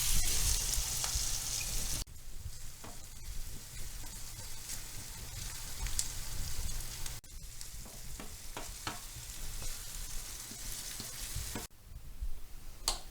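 Onions frying in a pan for pierogi, a steady close sizzle and crackle with occasional stirring, continuing without talk and with brief cuts in the sound.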